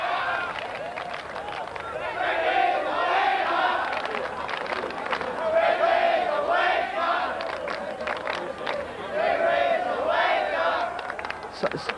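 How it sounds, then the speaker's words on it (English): Rugby league stadium crowd at a 1992 Great Britain versus Queensland Residents match roaring and chanting in sustained, swelling waves, with surges of noise rising and falling across the whole stretch, loud and dense throughout. "the crowd coming to life"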